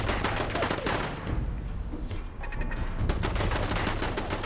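Rapid turret gunfire in Fallout 4, dense continuous automatic bursts with a brief dip midway, loud and close, filling the whole stretch without talk.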